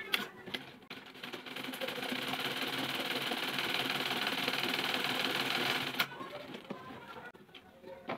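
A domestic sewing machine runs steadily for several seconds, stitching with a fast even whirring hum before stopping, then a few light clicks follow.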